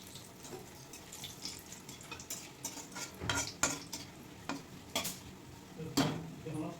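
Cumin and whole spices hit hot oil in a pan for a vegetarian cauliflower and paneer dish, giving a steady close sizzle broken by several sharp crackles and stirring clinks against cookware.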